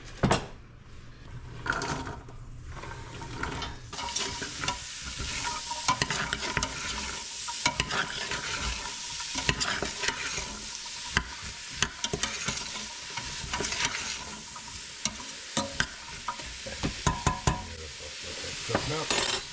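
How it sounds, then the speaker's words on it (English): Onions and celery sizzle steadily in a hot pan for minestrone soup, with a spoon scraping and stirring at intervals, close by and continuous throughout with no talking. "we're gonna start frying our onions and celery"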